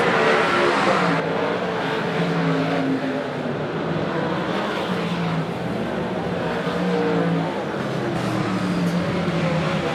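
Race cars circle Baypark Speedway after a heat race, their engines droning and rising and falling continuously at mid distance, with a public-address voice faintly mixed in.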